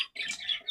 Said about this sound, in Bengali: এই যে কাছার ভিতরে বাজিগর, আমাদের বাজিগর পাখি।